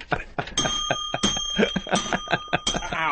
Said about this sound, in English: What are you ringing the bell today?